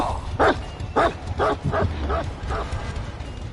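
The Houndmaster's dog in the video game Dead by Daylight barks in a string of short, sharp yips about half a second apart, fairly close and alone, with a faint whimper between them.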